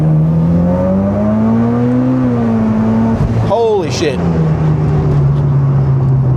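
Mitsubishi Evo X with a new tune accelerating hard, a loud droning engine note climbing steadily through the revs, then a quick gear shift and renewed pull, heard from inside the car with someone exclaiming over it.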